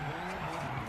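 A car's tires skid and squeal after the handbrake is pulled in the racing game DIRT 5, a steady sliding screech under continuous engine roar, loud and close with no gaps.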